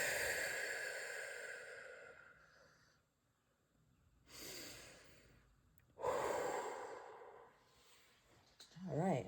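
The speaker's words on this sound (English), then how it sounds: "Instead, take a few deep breaths." Someone takes a few slow, deep breaths, with soft, close inhales and long sighing exhales that come in separate swells against a quiet background.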